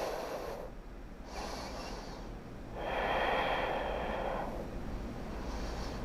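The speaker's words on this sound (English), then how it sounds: "You can use your Ujjayi breathing" Slow, audible Ujjayi breaths during a gentle backbend yoga pose at home, drawn in and out through a constricted throat as long, soft, airy rushes with a steady hiss in the background.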